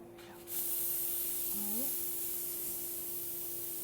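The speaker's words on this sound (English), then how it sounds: "And then I'll show you the steam." A Zacconi espresso machine's steam wand, just back in service after a fuse replacement, hisses in a steady, fairly soft rush that starts abruptly and continues unbroken to the end.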